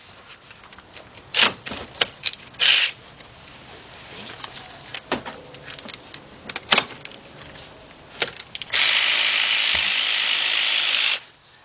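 A cordless ratchet with a 13 mm shallow 3/8-inch-drive socket backs out front strut bolts on a 2007 Chevy Impala 3.9, buzzing in short bursts and then in one long, loud continuous run near the end.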